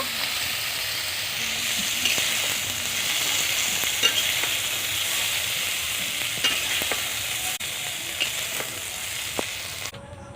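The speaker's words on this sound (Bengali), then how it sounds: "আমি এখানে শোল মাছগুলোকে হালকা করে ভেজে নিচ্ছি।" Snakehead fish pieces fry lightly in oil in a pan with a steady, even sizzle, dotted with faint pops and crackles throughout, no voices.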